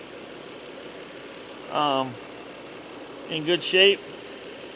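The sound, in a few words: Lexus 3.3L VVT engine idling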